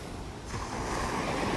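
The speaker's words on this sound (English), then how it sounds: "Leave you with the sounds of the waves here, lapping on the shore." Waves lap on the shore of a North Naples, Florida beach in summer, a soft continuous rush of surf that swells slightly partway through, mixed with light wind noise, with no voices.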